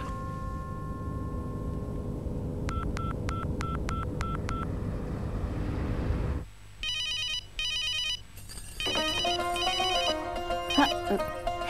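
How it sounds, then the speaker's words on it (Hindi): A telephone rings in a home as a run of quick repeated electronic trills, after which a louder, busier ringtone pattern takes over, with background music or noise playing underneath. "मेरे लड्डू का फोन है।"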